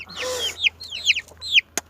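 Chickens and chicks nearby give a few high chirping calls and clucks in quick succession at sunset, fairly clear against a quiet background with a low hum.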